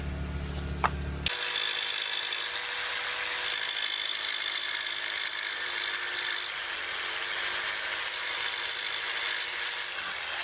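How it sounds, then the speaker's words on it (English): A jigsaw with a fine-tooth blade finishes a cut through wood for a custom threshold, a steady buzzing whine that runs without a break after a short burst of lower noise at the start. "We're going to finish off the cut with the jigsaw."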